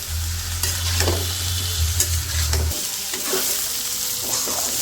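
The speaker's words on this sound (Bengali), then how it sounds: "ভাজিগুলো ভাইজে নিই।" Vegetables seasoned with salt, chili powder and turmeric fry in a pan, giving a steady close sizzle broken by repeated scraping stirs, while a low hum runs underneath for the first half.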